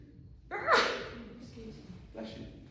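A single close, sharp sneeze bursts out during an indoor seminar, followed by a fainter breathy sound as it trails off.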